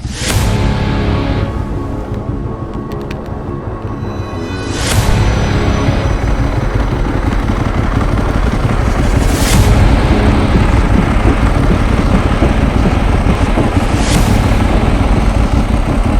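A Ducati 1098 motorcycle pulling away and riding, recorded from a GoPro on the rider, with the engine growling and rising after a few seconds into steady loud wind-buffeted drone, punctuated by brief rev surges.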